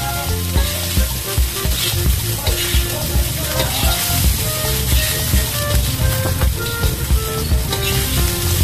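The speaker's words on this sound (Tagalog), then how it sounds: "Halo-haloin lang natin." Food frying in a pan for a home breakfast is stirred, with a loud, steady sizzle and scraping that runs the whole time.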